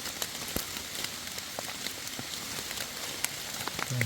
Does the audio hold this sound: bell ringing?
no